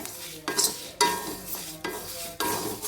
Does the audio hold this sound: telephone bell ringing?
no